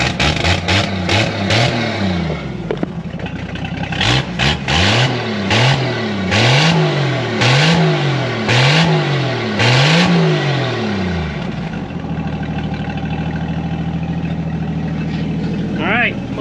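An old 1979 Jeep, long abandoned, with exhaust leaking through the floor, revs loudly and close in repeated rising-and-falling bursts, then settles into a steady rough idle.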